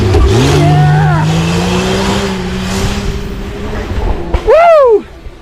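An off-road race vehicle at a snowy winter Blizzard Baja event revs hard through the woods, its engine rising and falling in pitch as it passes, then a sharp loud rev burst near the end; people cheer in between.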